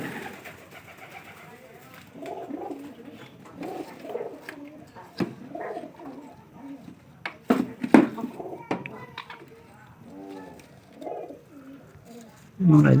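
Domestic pigeons coo softly in low, repeated bursts nearby, interspersed with a person talking and a few faint clinking sounds.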